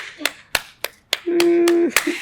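Several sharp, separate hand claps in an irregular rhythm, close and fairly loud, followed by a steady held tone and another clap at the end, with no talk over them.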